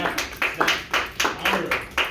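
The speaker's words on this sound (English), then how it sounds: "Clap for him." Students in a classroom clap for a classmate with a handful of close, rhythmic claps in quick succession, with voices faintly mixed in.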